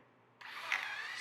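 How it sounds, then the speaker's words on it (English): A power drill in a workshop pre-drilling a hole down into a wooden support. After a short quiet moment, the drill whirs up and holds a steady, close, high-pitched spin until the end. "we're gonna pre-drill this one"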